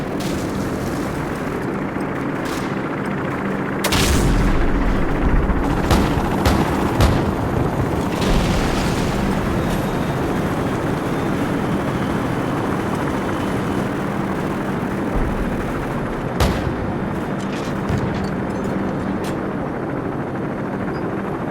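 Heavy AC-130 gunship engine drone in Call of Duty 4: Modern Warfare, with a few sharp booming cannon blasts and bursts of 25mm gunfire, loud and continuous rumble underneath.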